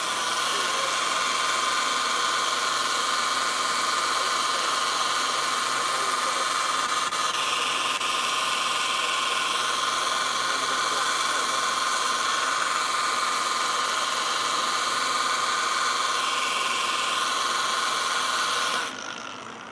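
A metal polishing machine works aluminum in a garage, giving a steady, loud high-pitched whine and hiss that runs almost unbroken for about twenty seconds before easing off at the end.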